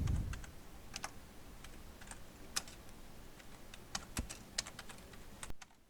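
Java code is typed on a computer keyboard in quick, uneven bursts of close, crisp key clicks with short pauses between words, and no voices over them.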